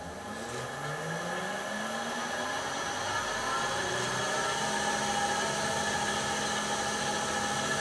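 A South Bend lathe runs forward on a variable frequency drive, giving a steady whine and hum that holds evenly from start to finish, with no voices.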